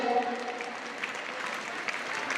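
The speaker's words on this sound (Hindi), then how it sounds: "जोरदार तालियों के साथ स्वागत करें" Schoolgirls at a gurukul's Lohri celebration clap loudly and steadily to welcome a guest, a dense, continuous wash of many hands, with a brief voice early on.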